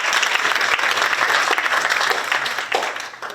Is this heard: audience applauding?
yes